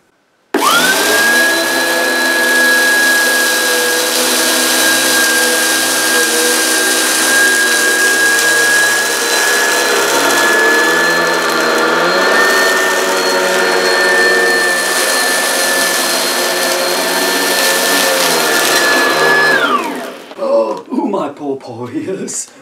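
An Oreck upright vacuum cleaner switches on and runs with a loud, steady high-pitched whine and motor roar for about twenty seconds, then shuts off and spins down, followed by some handling noise.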